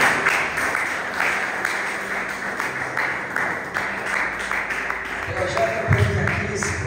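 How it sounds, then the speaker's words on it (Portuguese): A church congregation applauds for the Lord during a service, with steady, dense clapping throughout and a voice speaking over it near the end. "dá uma salva de palmas para o Senhor"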